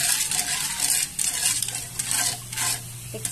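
Spoon scraping and stirring pork barbecue in a pan over sizzling heat, with a few quick metallic strokes against the pan close by and a faint steady hum underneath.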